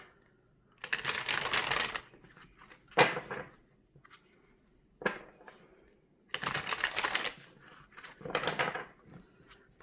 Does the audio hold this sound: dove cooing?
no